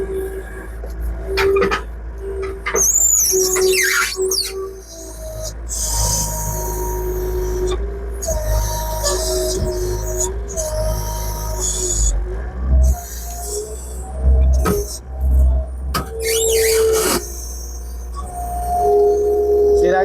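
A New Holland L225 skid loader with a 2,500-pound tipping load strains at a large white oak log, its diesel engine droning and surging under load, with hydraulic whines and creaks rising and falling over twenty seconds.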